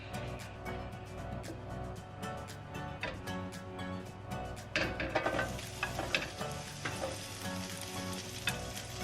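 Spring onion sizzling in hot frying oil in a pan while making sapasui, a steady close crackle that flares louder and busier partway through with some stirring.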